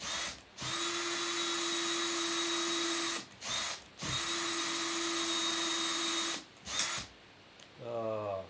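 Power drill runs in long sustained bursts, about three seconds each with short pauses between, loud and close, boring through metal indoors, with a steady motor whine throughout.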